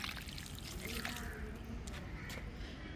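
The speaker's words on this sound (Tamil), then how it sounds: "இப்போ நான் ஊற்றும் போது ஒரு டைம் எடுத்துக்கிட்டு பார்த்தீங்களா ஸ்லோவாக அப்படியே இறங்கிரும்" Water poured slowly into the soil of a plant pot in a terrace garden, giving a soft, continuous trickle close by that stays quiet and even throughout.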